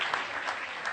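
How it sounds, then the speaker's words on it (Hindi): An audience claps to welcome a performer, Shambhu Shikhar, at a comedy poetry gathering for Agrasen Jayanti in Kaithal. The burst is brief and dense, a full, even roar of clapping. "आप तालियां बजाकर आमंत्रित करें आदरणीय शंभू शिखर जी को"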